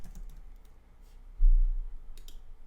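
Light keystrokes on a computer keyboard spell out a short word, a few quick soft clicks close by with a slightly louder burst in the middle, no voices.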